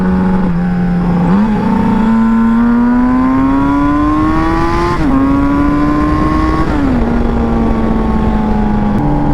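A turbocharged Yamaha XJ650 cafe racer motorcycle accelerates hard, its engine note climbing steadily, then dropping briefly at gear shifts before rising again, loud and continuous throughout with no talk.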